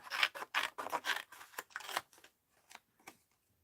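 Scissors snip through paper for a mixed-media art journal, a quick run of crisp, close cuts followed by a few slower, softer snips trailing off.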